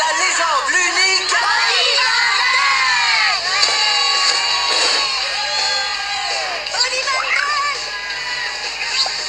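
A loud crowd cheers, whoops and shouts to welcome a skater, with children's high-pitched yells rising and falling throughout in a lively, echoing arena.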